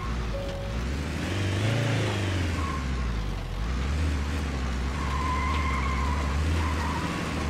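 Vehicle engine in the survival game Rust, revving and pulling with strong low rumble and shifting pitch throughout, steady and loud with no talking.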